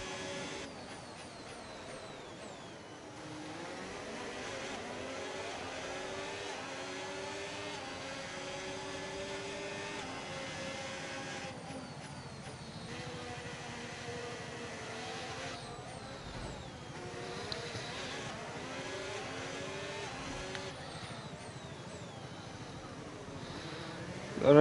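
Formula 1 cars racing at Monaco in the F1 25 video game, with a steady engine drone and rising and falling whines as cars pass and shift, a continuous mid-level roar throughout.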